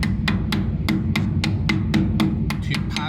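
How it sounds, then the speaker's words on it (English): A rubber or plastic hammer taps a part into a machine's locating pin, about a dozen sharp, evenly spaced strikes close by over a steady low machine hum. "using a rubber or plastic hammer"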